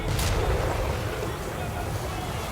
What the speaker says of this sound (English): Did a little explosion thing again.